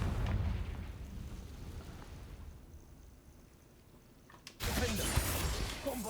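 A Confringo fire spell blasts in the video game Hogwarts Legacy, a sudden loud fiery explosion that bursts out after a fading rumble and then crackles on.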